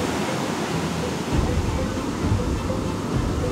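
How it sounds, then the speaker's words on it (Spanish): Large ocean waves crash onto the shore in a broad, continuous roar of surf, with a deeper surge building after the first second and staying loud to the end. "Mira, olas. Es un monstruo de tumbo que vienen ahí."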